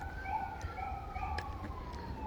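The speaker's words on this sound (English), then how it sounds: "You hear the sirens now?" A police or ambulance siren wails at a distance, its tone sweeping in a steady slow cycle over low traffic rumble, fairly faint and with no talking.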